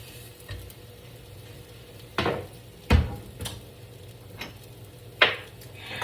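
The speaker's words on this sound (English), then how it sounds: "I'm going to reheat these up on this pan." Leftover pancakes reheating in a pan at home, with a soft sizzle under scattered clinks and scrapes of a utensil against the pan, a few sharper knocks standing out.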